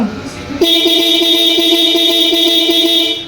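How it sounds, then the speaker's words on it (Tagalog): Loud horn of a Yamaha YTX125 motorcycle blares steadily for about three seconds after a brief lead-in, a bright sustained tone close by, sounded during a headlight and wiring check. "mayroon na pong loud horn kasama"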